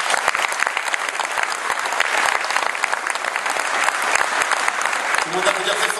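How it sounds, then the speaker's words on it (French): An audience applauds an orchestra member at a concert presentation, dense sustained clapping from a large crowd with voices mixed in, a faint tonal sound near the end. "Je vous demande d'applaudir Carole"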